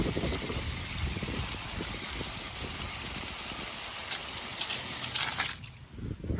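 Water spray rinses a car wheel after wheel cleaner is applied, a steady loud broadband hiss of gushing water that runs continuously, then cuts off abruptly near the end, leaving quieter dripping and splashing.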